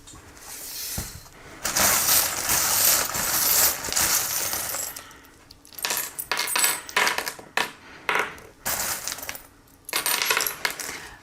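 Small metal tarot-reading charms are tossed and scattered, giving a long jangling rattle followed by a series of separate clinking bursts, close and fairly loud, with no speech.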